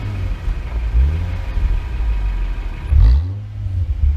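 A white Toyota Mark X with a tuned aftermarket exhaust sits idling with a deep, loud rumble, and two throttle blips rise and fall, the second one the stronger, with no talking.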